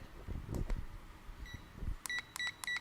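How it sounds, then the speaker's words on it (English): A timer beeps in several short, evenly spaced bursts of a bright electronic tone, coming after a few soft thumps and handling noises in a quiet room. "No, it's the beeping."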